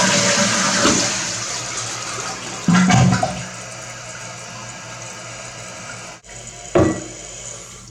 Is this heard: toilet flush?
yes